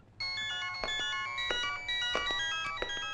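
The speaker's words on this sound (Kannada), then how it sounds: "ಏ ಡ್ಯಾಡಿ ಫೋನ್," An electronic telephone ringtone plays in repeated melodic bursts with sharp accents, loud and close, indoors in a home scene from a Kannada film, with no talk over it.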